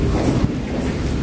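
A Paris metro train rumbles nearby, a loud continuous rolling roar with a faint rhythmic rail clatter and no voices.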